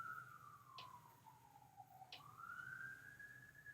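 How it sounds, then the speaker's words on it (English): An emergency vehicle siren wails from a distance, its tone sweeping slowly down and then back up, faint and steady with no talking. "Oh, there's a siren."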